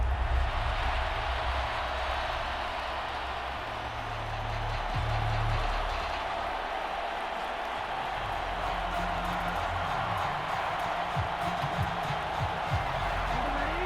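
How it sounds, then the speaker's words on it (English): A steady wash of stadium crowd noise in the video game Madden 24 during a Cowboys vs. Packers playoff game hums beneath a low rumble, constant and distant, with no distinct cheers standing out. "A big play here as the crowd noise rises."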